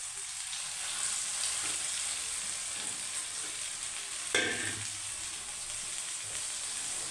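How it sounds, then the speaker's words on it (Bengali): Mashed potato with black cumin seeds frying in a wok gives a soft, steady sizzle with occasional stirring scrapes and one brief louder clank, close by and without speech. "এবারে আমি কড়াতে দুটো কালা জিরে দিয়ে দেবো, দিয়ে আলুটা দিয়ে দেবো।"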